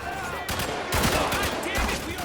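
Loud, close gunfire in the military shooter Spec Ops: The Line, several sharp shots and short bursts in quick succession, with voices talking through the firefight.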